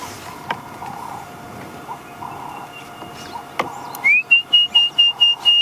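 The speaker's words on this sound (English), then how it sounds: "That's the orange-breasted bushshrike." An orange-breasted bushshrike calls outdoors in the African bush at sunset, a series of about six clear, evenly spaced whistled notes rising out of a soft background of insects and faint rustling, fairly near and loud.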